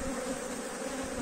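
Honey bees buzz beside queen shipping boxes fitted with a moist fiber pad, a steady, dense drone that holds at an even level throughout.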